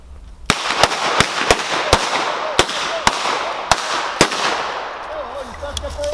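Revolvers fire in a wheelgun shooting match, about a dozen sharp, loud shots at irregular intervals with short echoes, some near and some from farther down the line.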